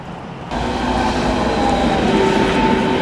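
Train at a Berlin station, a loud steady rumble and rolling roar that swells sharply after a quiet start and continues close by with faint squealing tones.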